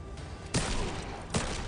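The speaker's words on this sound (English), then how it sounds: "He stood up half screen and got hit by an anti-air gunshot." Two sharp, punchy gunshot bursts from an anti-air attack in the fighting game Injustice 2 during a tournament match, spaced under a second apart over a steady background of game and crowd noise.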